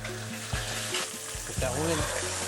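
A knob of butter sizzles and spits in a hot frying pan, a steady close crackle with stirring scrapes, no talking.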